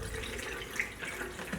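Liquid poured from a pyramid-shaped container into a cube, a steady trickling water sound running close and alone throughout.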